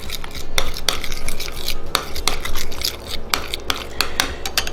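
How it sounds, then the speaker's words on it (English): Garlic being stirred in a pan with a metal utensil, continuous scraping and clinking against the pan surface, close and fairly loud, with a quick irregular rhythm and no talking. "And just give it a quick stir."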